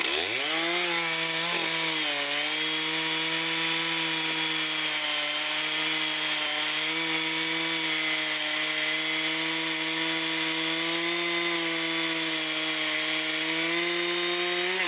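A Stihl chainsaw runs continuously while cutting a big tree, a steady high engine drone that dips once early on and then holds a constant pitch as it works through the thick wood.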